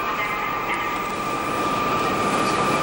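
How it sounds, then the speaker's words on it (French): Crowded high-speed trains in Japan run past with a steady, loud rolling rumble and a faint sustained whine, continuous and close throughout. "les trains rapides, tous bondés, se suivent à moins de 10 minutes d'intervalle"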